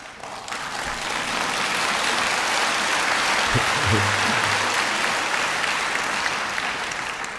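A lecture-hall audience bursts into sustained applause, loud and dense clapping that swells and holds steady for several seconds with no speech over it.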